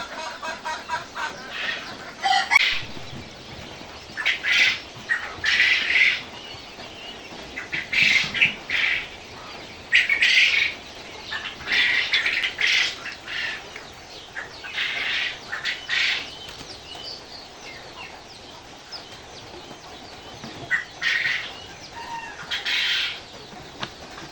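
Native chickens squawk, cluck and flap their wings in loud bursts while being given vaccine water, with quieter pauses between the flurries.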